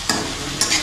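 Tomatoes fry in a hot pan, giving a steady sizzle with two short bursts of stirring scrapes, close and fairly loud, with no voices.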